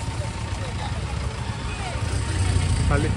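Road traffic jam on the way to Sinhgad fort, with a steady low rumble of idling and creeping car engines filling the scene, while people talk nearby over the vehicle noise.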